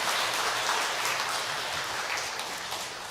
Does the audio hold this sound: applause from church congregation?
yes